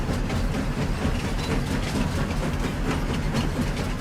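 Train in the video game Farming Simulator 25, a dense steady mechanical rumble with rhythmic clacking and engine drone, loud and continuous throughout with no speech.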